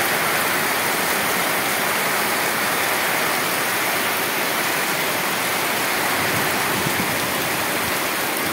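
Heavy rain pours in front of a pigeon house, a dense, loud, continuous hiss of water on surfaces with no voices.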